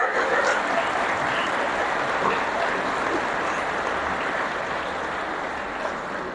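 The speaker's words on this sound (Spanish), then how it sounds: "Un aplauso para ella." A congregation applauds for a nun at a talk on the Eucharist, a soft, continuous wash of many hands heard from a distance, even and sustained throughout.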